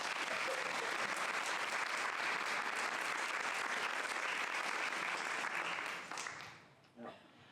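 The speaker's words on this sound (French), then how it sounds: "un tonnerre d'applaudissements pour eux" Audience applause at a political evening talk, dense sustained clapping from a large crowd that fades out near the end into quiet room tone.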